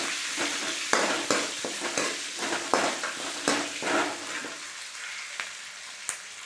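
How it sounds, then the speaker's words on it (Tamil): Onions and chillies sautéing in a pan for red aval upma, a bright crackling sizzle broken by repeated scraping stirs of a spatula, close and moderately loud, alone without talk. "நல்லா வெங்காயம் வதங்கட்டுங்க"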